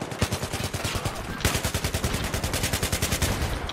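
Rapid automatic gunfire in the video game Battlefield 3, loud bursts of evenly spaced shots continuing almost without pause, with a brief gap before a denser stretch of firing.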